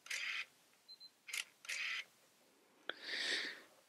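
Autofocus motor of a Yashica 200AF film SLR camera whirring in several short close bursts, with brief buzzing pulses and a sharp click before a longer final whir, quiet and alone.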